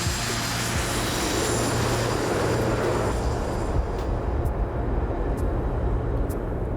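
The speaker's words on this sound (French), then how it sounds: "Les 8 avions décollent pour un vol qui va durer 1 heure." Eight aircraft at an aviation school take off together for a one-hour formation training flight, a loud, continuous propeller-engine roar that fills the whole stretch, with a few faint clicks toward the end.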